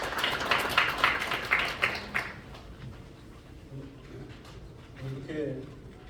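Audience applause greets a novelist taking the stage at a book launch event, a burst of clapping for about two seconds that fades quickly into quieter room sounds and brief talk.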